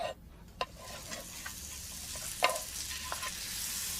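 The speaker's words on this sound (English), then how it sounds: "First, heat 25 grams of butter in a saucepan." Butter heats in a saucepan with a faint, low hiss, broken by a few soft clicks and taps from a spoon or pan.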